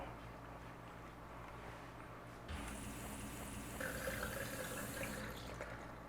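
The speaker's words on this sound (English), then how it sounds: "I'm just getting all of the water out." Water pouring out of a pot in a home kitchen while pasta is being made, a steady close splashing rush that swells louder partway through, over low background hum.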